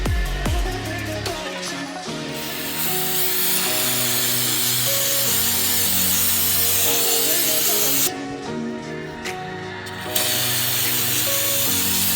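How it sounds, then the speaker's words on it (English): Brake cleaner or engine degreaser sprays from an aerosol can onto the carburetor of an ATC 70, a continuous loud hiss with brief pauses and restarts and faint clinks of parts in the background. "we're going to go ahead and spray it with some brake cleaner or engine degreaser"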